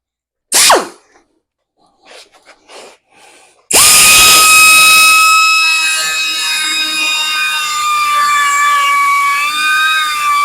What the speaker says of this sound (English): I'm gonna use my die grinder a little bit on the one hole.